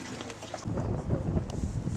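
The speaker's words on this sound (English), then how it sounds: "it's been very wet, and it's raining now." Steady rain falls on a boat passing through a channel at New Hellesund, Norway, a dense continuous hiss over a low rumbling wash that grows fuller after the first moment and stays close and even throughout.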